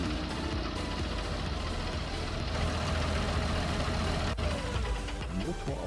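Tractor engine idling in the video game Farming Simulator 19, a steady low mechanical drone throughout with a brief dip near the end, some speech mixed in.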